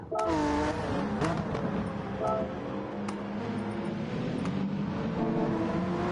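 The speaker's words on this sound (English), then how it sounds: "the car noise is so loud this evening you can't actually hear me speak" Gr.4 racing cars in a video game rev and roar steadily over a dense, droning engine noise, with brief sharp clicks and a faint voice underneath.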